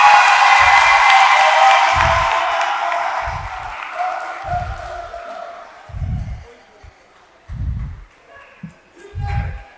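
An audience at the Miss Damba 2022 pageant claps and cheers. The dense applause fades over a few seconds and gives way to heavy, evenly spaced drum thumps.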